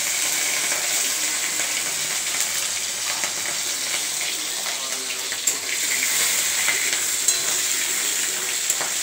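Prawns sizzle loudly in hot oil in a pan for gati kochu jhal, a dense, steady frying hiss lasting throughout, close up, with faint stirring clicks and no voices.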